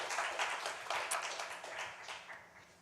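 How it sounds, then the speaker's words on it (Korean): A church congregation claps together in a Korean Sunday worship service, a soft, steady patter of many hands lasting a few seconds, distant and fairly faint. "우리 하나님께 영광의 박수 올려드리겠습니다"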